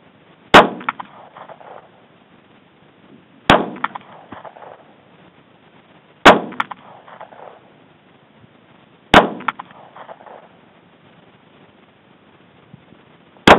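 A SIG P238 pistol fires five spaced shots at IPSC steel targets 75 yards away, each sharp crack followed by a faint, delayed metallic clang from the distant steel.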